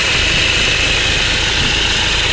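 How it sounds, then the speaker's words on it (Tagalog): A flood-affected Toyota Innova idles while its noisy AC compressor runs, a close, constant engine drone with a persistent high-pitched whine layered over it, unbroken and without voices. "Yun na, maingay na pala pati compressor."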